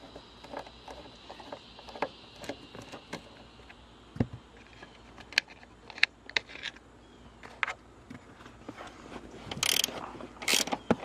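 Phillips screwdriver undoing small caps on Corbeau LG1 racing seat mounts, irregular close ratcheting clicks and small metallic ticks and taps, fairly faint, with no speech.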